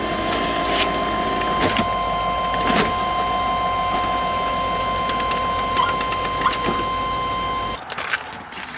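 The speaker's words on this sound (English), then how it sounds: "let's see if the window goes down" A 1992–1999 GMC/Chevy truck door's electric window motor whines steadily as the glass goes down, a continuous close mechanical drone with small clicks, ending abruptly when the motor stops.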